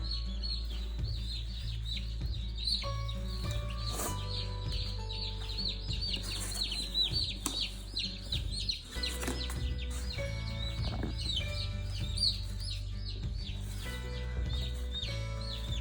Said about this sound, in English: I'm just gonna keep dumping chickens in here until we have them all in